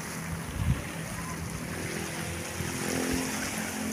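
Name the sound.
waves on Maruni beach, Papua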